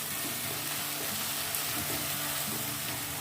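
Spice paste for stuffed brinjal sizzles steadily in a pan with no water added, a continuous close frying hiss with faint stirring scrapes throughout.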